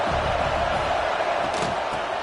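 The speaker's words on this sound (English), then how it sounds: "This crowd ready to make its presence known." A football stadium crowd fills the air with a dense, continuous roar of many voices, loud and unbroken throughout.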